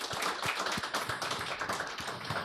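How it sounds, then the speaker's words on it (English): Dense, steady applause from an audience at a chamber of commerce business talk, many hands clapping together in a continuous roomy wash, moderately quiet and with no voices over it. "please welcome me in finally giving a fantastic round of applause for Jack Pelton"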